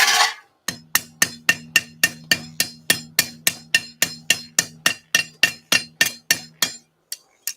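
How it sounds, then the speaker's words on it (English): A ball peen hammer strikes a hot nail head on an anvil to forge a rose head pattern, about twenty-five sharp ringing blows in a steady, even rhythm, loud and close, with no voices. "now I'm going to move over to a ball peen hammer to put in that rose head effect"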